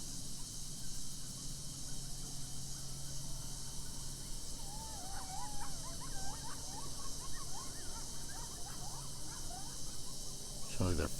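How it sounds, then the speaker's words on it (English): Coyotes howl and yip far off at night near a junkyard campsite, faint wavering cries rising over a steady insect-like background hiss. "there's some coyotes out there howling."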